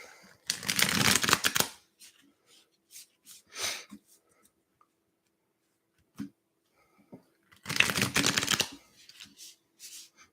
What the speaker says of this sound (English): Let me do another quick shuffle of the cards